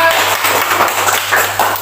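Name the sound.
group clapping hands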